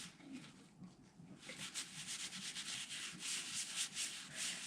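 Sanding sealer being rubbed onto a spinning spalted white oak bowl on a lathe, a continuous dry rubbing and sanding hiss that grows steadier after the first second, with no talk.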